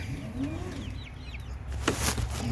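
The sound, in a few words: chickens clucking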